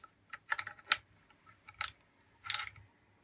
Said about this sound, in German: Jetzt wird die Schlüssel zurückgegeben